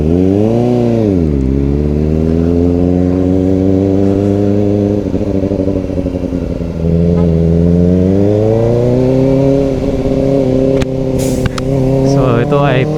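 A Kawasaki ZX-4RR motorcycle engine revs on a test ride, its loud, close inline-four tone sweeping down and up in pitch through gear changes, with a steady drone throughout and a rider's voice over it.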